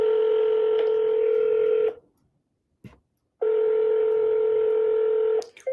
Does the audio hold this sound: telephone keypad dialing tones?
yes